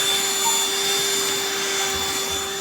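A Black+Decker Dustbuster cordless handheld vacuum runs close and loud, a continuous steady whine with a constant pitch and airy rush, alone without talk.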